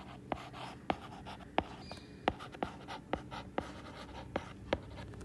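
Pen writing on paper while working a Class 9 math subtraction problem: a close, quiet series of about a dozen short, crisp strokes and taps in an uneven rhythm, with no talking.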